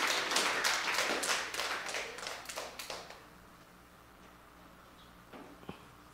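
A church congregation claps for the Lord in a dense burst of many hands for about three seconds, then the applause thins into a few scattered claps and fades to quiet room tone.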